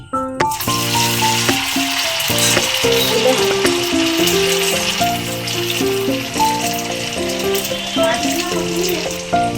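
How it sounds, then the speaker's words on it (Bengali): Chowmein pakoras deep fry in oil over a low flame, giving a continuous bubbling sizzle beneath loud background music. "এরপর আমরা এতে ফ্রাই করতে দিচ্ছি।"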